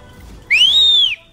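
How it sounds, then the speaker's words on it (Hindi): A single loud, sustained whistle with a rising then falling pitch, about half a second long, blown by a person during a kite-flying session, standing alone against low background noise. "इतनी सीटी बजाना"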